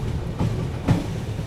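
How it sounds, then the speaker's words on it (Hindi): The Mandovi Express pulling out of Sangameshwar Road station on the Konkan Railway, heard as a loud close rumble of rolling wagons with a couple of rhythmic wheel thumps. "चलो अभी अपनी ट्रेन निकल रही है संगमेश्वर रोड रेलवे स्टेशन से"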